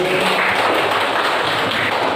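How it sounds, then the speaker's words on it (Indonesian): Students in a classroom clap for a classmate, a dense, steady patter of many hands sustained throughout at close range. "Tepuk tangan lagi untuk si Nazmi."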